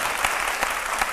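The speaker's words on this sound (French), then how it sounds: "On peut l'applaudir." A studio audience on a French-language midday television show applauds a guest, a short stretch of dense, steady clapping with a few stronger claps standing out.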